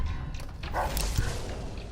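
Hostile dogs in the game Fallout New Vegas, a few sharp barks and yips over a rumbling game soundscape, fairly close and moderate in level.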